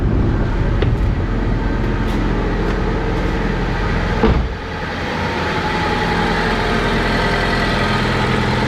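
A loud, steady Honda Civic EK engine idles close by with check engine light on while burping the coolant system, its low rumble constant throughout with a brief dip and shift partway through; no voices.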